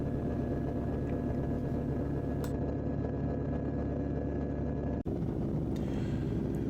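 Engine of an Arcus-M motor glider running in flight over the Swiss Alps, a constant droning hum with wind rush, steady and close, briefly cut by a sharp dropout before resuming.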